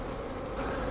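Dense, steady buzzing of many honey bees around an opened Flow Hive during a honey harvest, close and continuous throughout.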